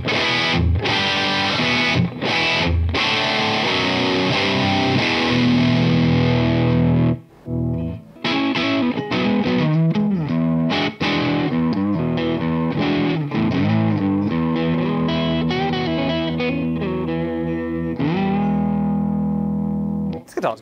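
A Schecter C6 Plus electric guitar, played through heavy metal-style distortion, rings out loud and sustained chords and riffs, with a few brief pauses between phrases.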